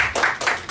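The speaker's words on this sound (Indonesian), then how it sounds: "Tepuk tangan dulu buat Kios Ojek Kios" Short burst of clapping from a small audience at a talk event, rising and falling in quick waves over less than a second.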